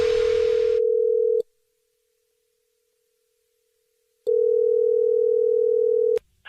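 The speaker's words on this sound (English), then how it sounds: "It's another Jubal phone prank." A steady telephone dial tone hums, cuts out for a few seconds of silence, then returns before stopping abruptly.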